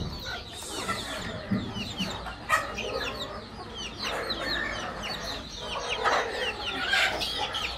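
Backyard country chickens clucking close by, a flock of overlapping clucks and short calls that keep up with no break, with the murmur of a few voices faintly underneath.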